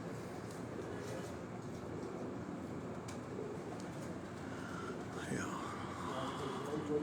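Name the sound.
pigeons on rooftop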